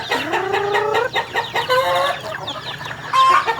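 A close flock of chickens at a small poultry yard clucks and squawks continuously while being fed before dawn, overlapping calls rising and falling with a few sharper cries, no talking.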